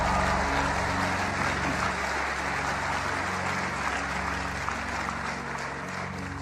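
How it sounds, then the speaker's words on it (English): Audience applause from a crowd at a motivational talk on positive mental attitude, steady dense clapping that holds for about six seconds without a pause, somewhat distant, with no voices over it. "Give yourselves a round of applause."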